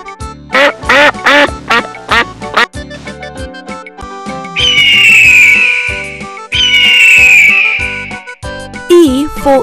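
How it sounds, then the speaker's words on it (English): Animated duck quacking in a quick run of loud, nasal quacks, followed by two long whistle-like tones, all close and clear with no speech over it. "D for duck."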